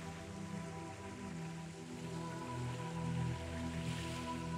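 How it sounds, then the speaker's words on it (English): Rain falls in a video game world, a soft continuous patter that builds slightly over a few seconds, with low tonal game music running underneath. "It is raining."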